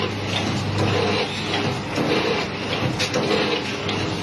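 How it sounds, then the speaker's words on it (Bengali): A packaging machine at a spice shop runs with a loud, steady mechanical churn, pulsing rhythmically about once a second close by. "এটা প্যাকেজিং মেশিন"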